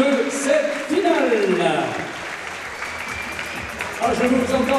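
A crowd applauds at the close of a French amateur boxing final, a sustained clapping that runs steadily throughout while a commentator talks over it.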